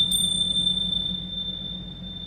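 A single bell struck once to clear energy, a bright ding with a sharp attack that lingers as a long, steady, clear ring over a low background hum.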